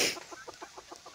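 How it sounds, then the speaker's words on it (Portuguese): Chickens cluck softly in a steady, rhythmic series of short calls on a small farm on a cold dawn, with a rooster somewhere in the background; faint and slightly distant. "O galinho cantando lá nos fundos."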